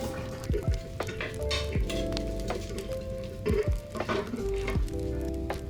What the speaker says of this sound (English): I started by caramelizing onion, which is the best way to start any soup.